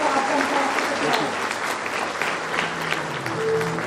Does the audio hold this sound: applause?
yes